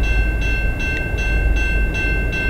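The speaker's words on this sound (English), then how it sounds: "CN L509 coming east." CN freight train L509 rolls past eastbound, a loud, steady rumble with a rhythmic clickety-clack of wheels over rail joints roughly every 0.4 seconds and a sustained high tone running through it.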